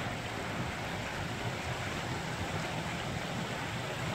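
Rainwater pouring from a storm drain duct into Pacific Ocean surf at Santa Monica, Los Angeles, a loud continuous broadband roar of falling water and waves with wind, no voices.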